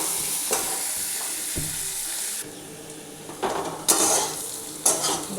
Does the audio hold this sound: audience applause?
no